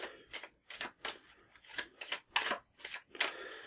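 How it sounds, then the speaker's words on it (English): A deck of regular playing cards shuffled during setup for a Back to the Future card game, heard as eight quick, crisp rustling bursts in a steady rhythm, close and fairly quiet, with no talking. "We will then shuffle up the deck of normal cards."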